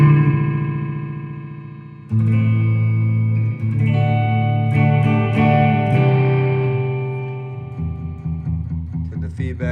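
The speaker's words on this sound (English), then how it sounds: "turn the delay time up, but turn the feedback up, and you get kind of this different type of echo" Electric guitar run through an Electro Harmonix Echo digital delay with high feedback, sustained chords smearing into dense, repeating echoes that build and linger, played alone and fairly loud.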